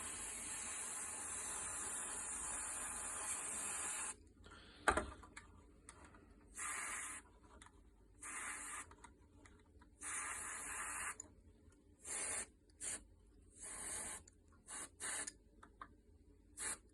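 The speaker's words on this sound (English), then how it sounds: "I'm just going to give the chassis underframe a gentle waft over with the airbrush" An airbrush sprays paint over a model railway chassis underframe in short hissing bursts of varying length, separated by quiet gaps, close and steady, with a single sharp click partway through.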